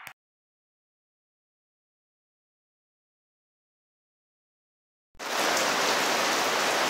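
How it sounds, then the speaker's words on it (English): Rain falls steadily on an enclosed gazebo at a lake, starting abruptly after several seconds of silence as a dense, loud, even hiss of drops. "it got to raining a little bit harder, so I went ahead and enclosed this"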